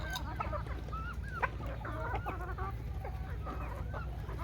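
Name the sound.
native (deshi) chickens clucking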